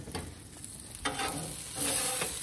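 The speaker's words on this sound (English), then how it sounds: "And now we wait as it sizzles on there." A burger patty sizzles on a grill with a steady crackling hiss, close and fairly loud, swelling slightly toward the end, with no talking.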